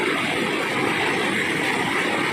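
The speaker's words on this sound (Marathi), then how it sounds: "पुराचा आवाज तुम्हाला थोडासा मी ऐकून" A steady, loud broadband roar of a flooded river rushing, continuous and unbroken, with no voices.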